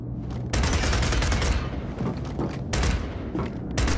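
Sustained automatic gunfire in Gears of War 4 Horde mode, loud and continuous, with dense bursts of shots that swell in several waves and no talking over it.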